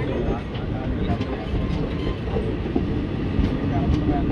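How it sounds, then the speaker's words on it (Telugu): The Pinakini Express departs Nidubrolu station with a continuous near rumble and rhythmic wheel clatter, steady and loud, while a voice talks over it. "సో మన ట్రైన్ అయితే నిడుబ్రోల్ నుండి అయితే బయలుదేరిపోయింది."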